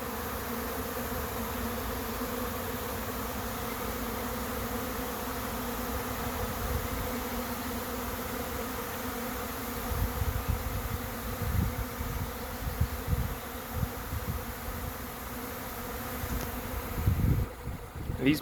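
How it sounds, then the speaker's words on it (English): A homeless honey bee swarm lifts off from ferns, its dense, steady buzzing droning on and swelling louder toward the end as more bees take flight, with no voices heard. "Bees on the ferns are starting to leave."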